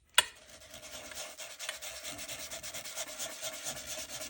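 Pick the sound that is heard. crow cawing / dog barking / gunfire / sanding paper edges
sanding paper edges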